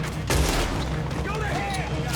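Gunfight in Red Dead Redemption 2 crackles with a dense, loud burst of shots at the outset and rattling fire after it, while a voice shouts over the din.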